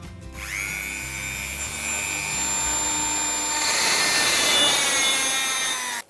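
A small drill fitted with a 2.5 mm bit bores holes into the diecast metal body of a 1986 Matchbox 1:140 Ikarus coach bus, giving a steady close whining grind that runs about six seconds and grows rougher near the end.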